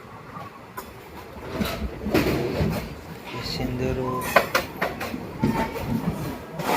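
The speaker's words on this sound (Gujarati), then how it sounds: "ટ્રેન ધીમી પડી ગઈ છે સુરેન્દ્રનગર જંકશન આવી ગયું છે" A train slowing into Surendranagar Junction rumbles and clatters along the rails, wheels clacking irregularly, while people talk nearby over the mechanical noise.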